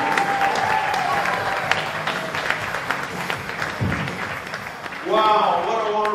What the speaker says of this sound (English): I want to hear a big round of applause